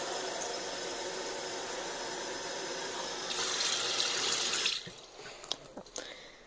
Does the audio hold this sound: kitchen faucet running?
yes